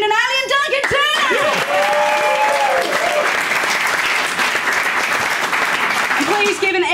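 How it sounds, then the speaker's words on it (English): An audience at a live comedy panel show bursts into sustained applause and cheering that fills the room, while an announcer's voice rings out over the clapping. "Please give an extra special big round of applause for our special guests tonight, James McCann and Greens MLC, Tammy Franks."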